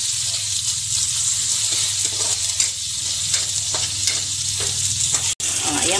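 Ginger frying in a pan for fish paksiw in coconut milk, a steady loud sizzle with stirring scrapes throughout and a brief click near the end, with no talking.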